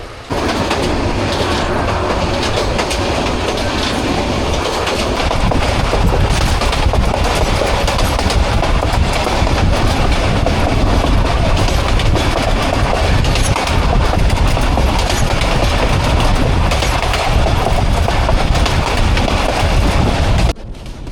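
A moving passenger train, the Tista Express out of Dhaka's Kamalapur station, rumbles and clatters on the rails at close range, a dense continuous roar with rhythmic clickety-clack throughout and no talk.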